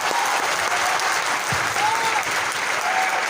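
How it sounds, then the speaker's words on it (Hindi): Dense, loud applause from a seminar audience fills the room steadily throughout, a crowd clapping continuously with a faint voice or two underneath. "आपने जोरदार तालियां बजाइए आप"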